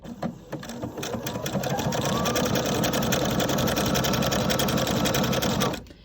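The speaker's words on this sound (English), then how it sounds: "So as I sew, I'm lining up the fabric with the inside part of the presser foot here." A sewing machine stitching a faux cover stitch hem on fine knit fabric runs at a steady, fast rhythmic hum for about five seconds, close and loud, then stops abruptly.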